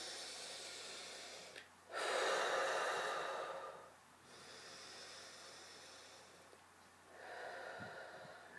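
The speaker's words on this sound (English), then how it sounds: "Take 2 deep breaths and blow that perfection out." Deep breaths drawn in and blown out slowly during an EFT tapping session, several long, soft, airy exhalations close to the microphone, rising and falling with quiet pauses between them.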